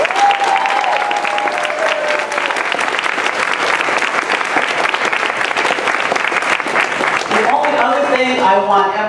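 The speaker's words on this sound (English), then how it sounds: "I want everyone here to give our team a round of applause" Loud, sustained audience applause fills a room at a get-out-the-vote campaign rally with a senator, with cheering voices and a shout rising over the clapping near the start before it thins toward the end.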